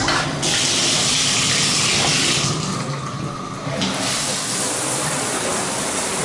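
Bathroom tap running steadily at full pressure into a sink, a loud continuous rushing hiss with a brief change in tone midway.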